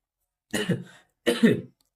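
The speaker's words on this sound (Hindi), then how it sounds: "थोड़ी खांसी हो गई" Two sharp, close coughs from a sore throat in quiet, each a short harsh burst with a throaty rasp, separated by a brief pause.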